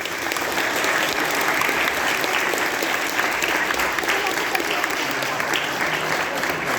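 Steady, dense applause from an audience welcoming the youngest dancers at a children's rhythmic dance performance in Mikołów, loud and continuous throughout.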